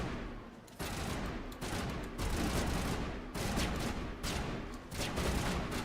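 Bursts of gunfire from the Mass Effect video game come in repeated rapid volleys, loud and dense, with brief pauses between clusters of shots and no talking.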